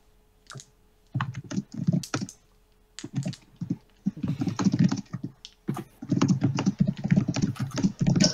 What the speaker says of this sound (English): furious typing going on.